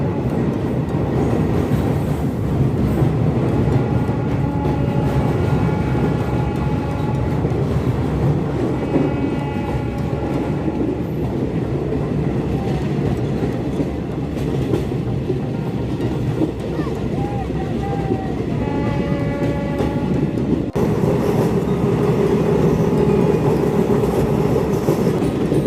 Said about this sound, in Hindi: फाइनली इस ट्रेन में जर्नी करने का मौका मिल रहा है